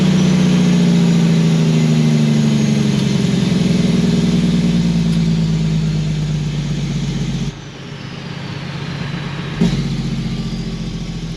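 A tractor's diesel engine idles close by with a steady, heavy drone and a rising-then-falling pitch early on, dropping briefly near the end before settling back to a constant rumble.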